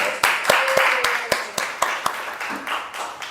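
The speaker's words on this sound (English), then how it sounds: "please clap our hand to Hala" A small lecture-hall class gives a brief round of applause for a student, with a dozen or so distinct, fairly close hand claps spaced irregularly over a few seconds, sparse rather than a dense ovation.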